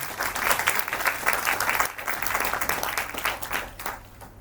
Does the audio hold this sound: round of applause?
yes